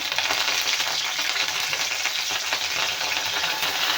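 Curry leaves sizzle and crackle steadily in hot oil in a home kitchen pan while a pickle is being made, a loud, dense frying hiss with small pops throughout and no talking.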